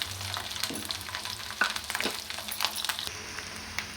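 A whole head of garlic cloves drops into a hot frying pan, bringing a soft sizzle with light clinks and scraping stirs, fairly quiet and close.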